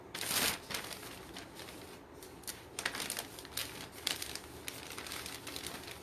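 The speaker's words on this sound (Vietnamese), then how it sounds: "Cái túi ni lông chị nghe." A plastic bag crinkles and rustles close by in a clothing shop, with a sharp burst at the start. Quieter, uneven crackles follow throughout, and no one speaks.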